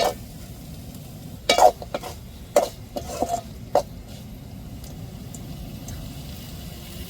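Masala and green chillies being sautéed in a pan while preparing dried rock fish fry, with several irregular bursts of stirring and scraping over a soft, steady sizzle, close by and with no talking.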